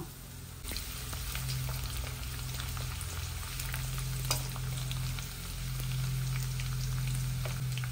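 Garlic with a dried red chilli fries in hot oil for dal, a steady soft sizzle and crackle heard close and alone, with a few faint clicks over a low hum.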